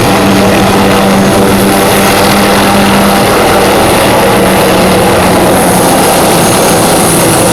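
A loud, continuous helicopter drone on the Big Island, with a steady rotor hum and broad engine noise, close and unbroken throughout.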